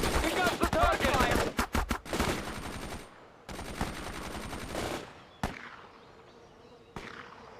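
Rapid machine-gun bursts in the World in Conflict video game, loud staccato fire for about two seconds, then a sustained roaring burst, followed by a few isolated sharp single shots fading into quieter ambience.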